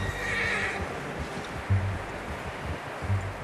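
A horse neighs and whinnies loudly in Red Dead Redemption 2, its long call coming early over low rumbling ambience, followed by a few soft hoof clops.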